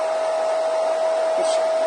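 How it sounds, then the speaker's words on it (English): A hairdryer runs steadily on its cold, no-heat setting, blowing air over a mixed media notebook's textured craft surface, a close, constant whirring hum with a strong steady tone and no pauses. "I'm using a hairdryer. I've got no heat on it."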